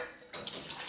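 Tap water runs into a sink while a pot around fifteen to twenty years old is washed, a steady broadband splash that grows fuller partway through, with no voices.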